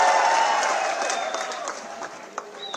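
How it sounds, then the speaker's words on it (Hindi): Crowd applause at a Congress party political event in Jaipur: a broad burst of clapping that fades gradually, with a few scattered late claps and faint background crowd noise and whistles. "जोरदार तालियां"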